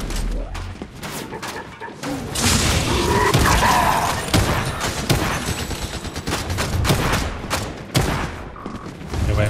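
Sustained gunfire and explosive thumps in a Fortnite Chapter 5 Zero Build ranked solo match, loud dense bursts of shots going on almost without a break.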